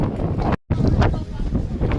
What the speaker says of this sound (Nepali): एकदम हावा चलिरहेको छ।